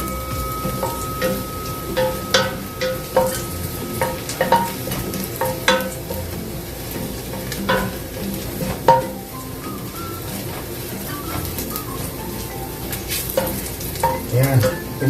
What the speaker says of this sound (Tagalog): yung bawang, iba-brown ko siya